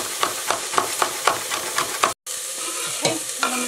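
Chorizo and chopped ingredients fry in a saucepan for a spicy mixed bean soup, a steady close sizzle broken by regular scraping stirs about every quarter second, then a brief pause and softer stirring.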